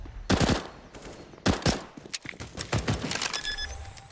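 Counter-Strike gunfire on the Inferno map during a G2 Esports versus Fnatic tournament match, with loud rapid bursts of automatic fire, a pause, then further shots and clattering impacts.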